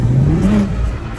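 A BMW F30 M340i engine revs up in a rising, steady pull lasting about a second, loud and close from inside the car with no talk over it.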